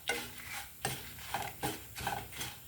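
Dried red chillies frying in a hot tempering pan, with a soft sizzle under repeated scraping strokes of a spoon stirring the pan at close range and no talking.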